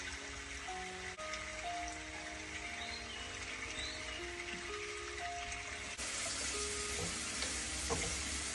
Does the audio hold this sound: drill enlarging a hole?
no